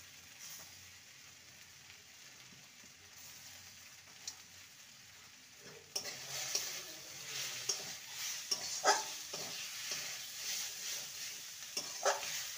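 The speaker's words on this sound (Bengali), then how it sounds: "হাই ফ্লেমে 2 মিনিট ভালো করে নেড়ে নিলেই এটা রেডি হয়ে যাবে" Amaranth leaves with a bay leaf are stir-fried in a pan over high flame, a soft sizzle that grows louder halfway through as rhythmic scraping stirs and clinks of the spatula join in.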